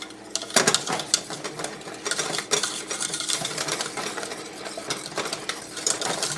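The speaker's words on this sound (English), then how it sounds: "I'm going to whisk that in." A 3-ounce package of strawberry gelatin being whisked into fresh strawberry pie filling in a bowl: a busy, continuous run of quick scraping and ticking strokes, fairly close, with no talking.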